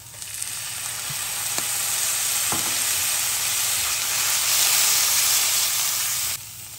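Vegetarian ham and carrots stir-fried in a wok produce a loud, bright sizzle that swells and holds, with a few clanks of the spatula, close and steady until it cuts off near the end, no speech.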